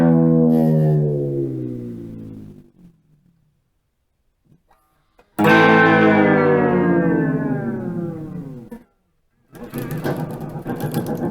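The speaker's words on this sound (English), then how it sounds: "That's the sound of the strings bouncing off the pickups" A guitar's vibrato bar dives the pitch until the strings go fully slack and slap against the pickups, making loud, downward-sweeping twangy swoops with a silent gap between them and a buzzy rattle at the end.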